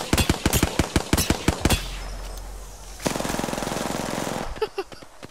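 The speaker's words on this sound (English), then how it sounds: "Oh, we're being shot at!" Rapid automatic gunfire in the battle royale shooter Apex Legends, loud close bursts of evenly spaced shots, a pause, then another sustained volley that trails off into a few scattered pops.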